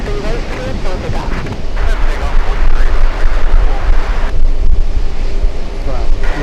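Strong wind at an airport buffets the microphone in loud, continuous gusty roaring, with a voice faintly talking beneath it.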